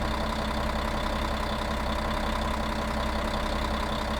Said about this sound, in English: First, we have a bus driver engine idle turning off sound.